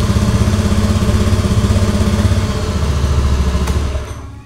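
An automatic scooter engine runs at a steady idle after starting, a close, even low putter with light mechanical clatter that dies away in the final half second.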